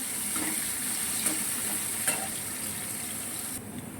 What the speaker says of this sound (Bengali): ওই তেলের মধ্যেই আমি কিছুটা পেঁয়াজ দিয়ে দেবো বেরেস্তা করার জন্য